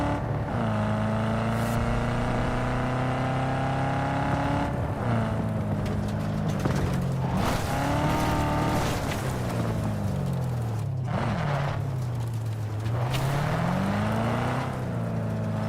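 A car engine drones steadily while driving in Cyberpunk 2077, its pitch rising and falling with gear changes and acceleration, loud and continuous with no talking.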